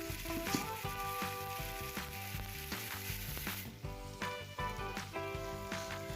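Omelette curry masala fries in a pan with turmeric and salt, giving a steady loud sizzle with scrapes of a spoon stirring through it. No one talks.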